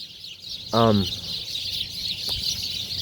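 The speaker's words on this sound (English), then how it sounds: "Excuse the birds." Birds chirp steadily in the background, joined by a short, loud clucking call near the start, like a chicken or rooster nearby.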